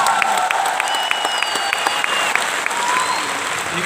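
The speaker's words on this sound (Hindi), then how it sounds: "कम ऑन एवरीबॉडी, जोरदार तालियां।" An audience at an award function claps loudly and steadily for several seconds. The crowd applause is dense and continuous, with no talk over it.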